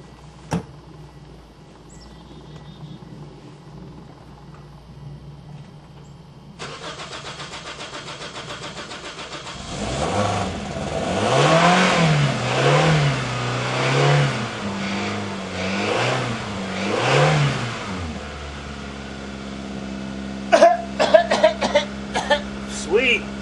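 A Toyota Corolla filled with diesel by mistake cranks after a diesel flush: quiet lead-in, then a loud, rhythmic starter whir that catches and runs as a rough idle, with a few sharp clicks near the end.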